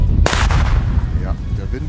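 A red Pestböller firecracker from a 2019-2020 batch bursts with one sharp, loud bang at New Year's Eve, its crack fading over constant wind rumble.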